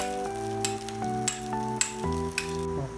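Chicken and sauce being stirred together in a pan make a steady sizzle broken by a few sharp scraping knocks from the spoon, close up, with music playing underneath.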